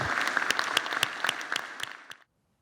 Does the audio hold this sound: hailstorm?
no